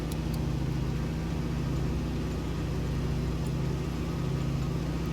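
A de Havilland Beaver's radial engine holds a steady, loud drone at run-up power in Flight Simulator 2020, a continuous low throb with no voices over it.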